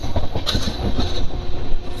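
The Hemkunt Express rolls at speed through a small station it does not stop at, giving a loud, continuous rumble with clattering wheels and a brief high metallic squeal.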